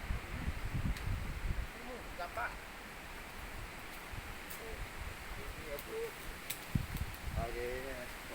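Wind blowing across a mountainside in the evening during coffee picking, a steady broad rush that runs the whole time beneath nearby voices talking.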